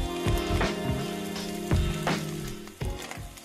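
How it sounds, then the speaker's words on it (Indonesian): Corn and cut chili stir-fry in a hot pan for turmeric fried rice, giving a steady sizzle with several sharp scraping strokes of a spatula over a low background tone. "Terus kita tumis dulu sebentar."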